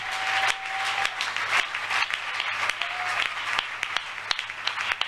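A church congregation applauds loudly and steadily, dense clapping filling the room throughout, with a sustained tone, likely an organ or keyboard note, sounding briefly underneath.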